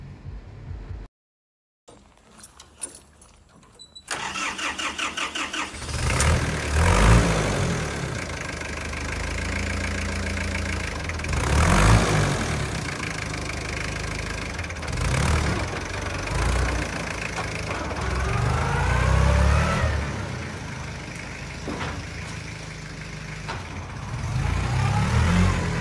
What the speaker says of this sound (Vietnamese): Rồi anh nhanh lên đề máy giùm em cái nhanh đây